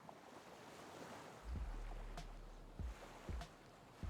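Ocean surf at Botanical Beach near Port Renfrew, British Columbia, a soft continuous wash of waves with gusts of wind buffeting the microphone in low thumps.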